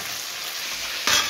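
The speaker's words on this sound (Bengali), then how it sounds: "সাদা তেল ঘি দিয়ে গরম করে নেব। এবার চিকেনগুলো ভেজে নেব।" Chicken pieces fry in hot white oil and ghee, giving a dense, steady close-up sizzle that swells a little louder near the end.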